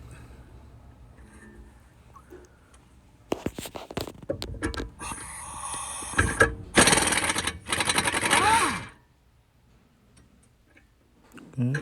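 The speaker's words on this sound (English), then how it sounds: "we're gonna remove those two bolts using number 18" Front strut bolts on a 2016 Ford F150 RWD are loosened with an 18 mm socket: loud, dense rattling bursts fill the middle of the clip, with quieter stretches before and after.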